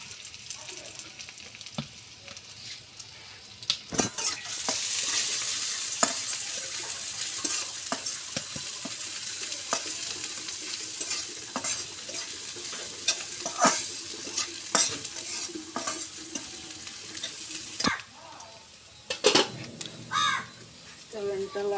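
Chopped garlic, bay leaves, cinnamon and black cardamom fry in hot oil, a constant near sizzle with sharp spatters and scraping stirs, while a voice talks and crows caw faintly in the distance.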